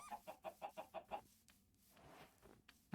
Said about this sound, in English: I hear the chicken.